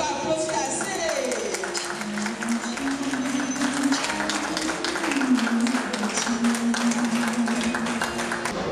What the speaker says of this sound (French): On n'a pas applaudi assez.